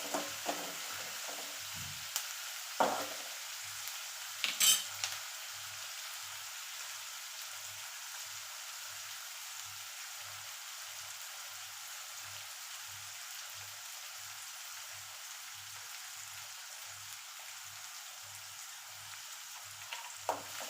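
Onions sizzling and frying in a pan as they turn reddish, with a soft, steady crackle and a few louder clinks of stirring near the start and midway, all without any talk.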